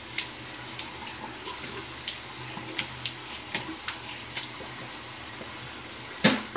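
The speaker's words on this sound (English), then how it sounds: "All right, I'm gonna rinse this off." Water runs steadily from a tap while a safety razor (RazoRock V2 Hawk) is rinsed under it, with light clicks and splashes of metal tapping the sink.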